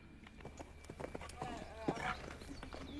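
Horses move around a riding arena during a jumping lesson, their hooves drumming a steady clip-clop rhythm beneath an instructor's near, continuous coaching voice.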